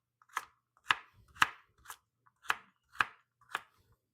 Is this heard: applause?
no